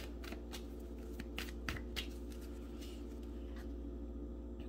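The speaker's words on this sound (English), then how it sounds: "Let's get one more good shuffle" Soft, rapid tarot card shuffling with a series of quick riffling snaps and light clicks, close by and quiet, no talking.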